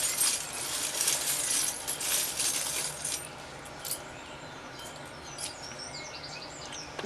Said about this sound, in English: I am shuffling the charms and they do get a little noisy.